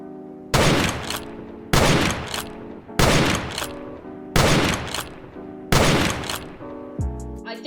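Five loud gunfire volleys from guns in the Roblox Wild West update, each burst sharp and booming with a ringing tail, arriving at a steady spacing of roughly one and a half seconds, followed by a brief metallic clicking at the end.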